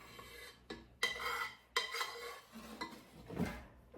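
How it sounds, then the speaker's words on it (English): A utensil scrapes sorrel jam from a pan in several close, gritty metallic strokes with short pauses between them. "Scraping the pan."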